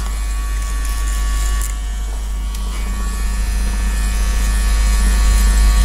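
Electric hair clippers buzz continuously through a pompadour haircut, a steady close electric hum with faint cutting texture and no speech.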